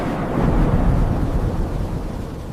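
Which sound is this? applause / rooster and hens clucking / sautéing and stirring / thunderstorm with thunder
thunderstorm with thunder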